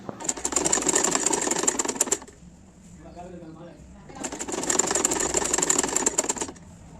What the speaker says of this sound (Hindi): दोनों पार्ट को बीच में से उठा के हमें बीचों बीच जो है सीधे में सिलाई लगा देनी है।